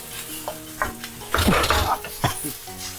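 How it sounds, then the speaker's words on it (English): Chili sizzles and crackles in hot oil in a wok as food is stir-fried, with scraping bursts and a steady frying hiss throughout. "Hear the sizzling."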